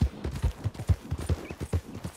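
Horse hooves clip-clop at an even walking rhythm in Red Dead Redemption 2, close and moderately loud, with no talking.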